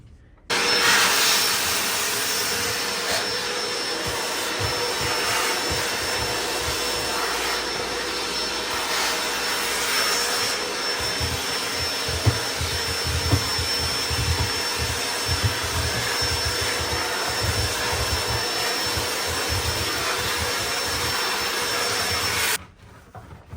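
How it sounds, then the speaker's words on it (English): A vacuum cleaner runs steadily for nearly the whole stretch, sucking loose coffee grounds out of a coffee trailer's cabinet, with a constant loud roar and scraping, rubbing bumps from the nozzle against the wood, then cutting off at the end. "now we're just going to take the vacuum and vacuum inside of this cabinet"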